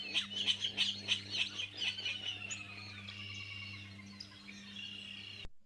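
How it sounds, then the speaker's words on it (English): A Virginia rail calls in a Delta marsh, with a Sora's call tacked onto the end: a rapid run of chirpy, clipped notes up front that gives way to quieter trailing calls, heard fairly close over a low steady background hum. "So there's your Virginia rail with a Sora on the end of it."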